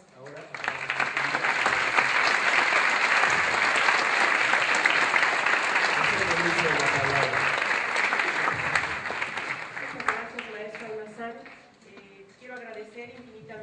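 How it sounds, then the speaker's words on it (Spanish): An audience at a sociology seminar gives sustained, loud applause for two speakers, dense clapping that swells and holds, then thins out as a speaking voice takes over near the end. "Yo les pido un aplauso nuevamente para ambas"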